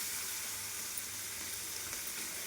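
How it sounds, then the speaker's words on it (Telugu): Fresh curry leaves dropped into a hot pan while making gongura curry give a quiet, steady hiss of frying, an even sizzle with no voices. "మా కుండీలో ఉన్న కరివేపాకు ఇది కోసుకొచ్చి వేసేసాను అనమాట"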